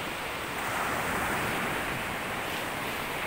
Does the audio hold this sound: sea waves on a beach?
yes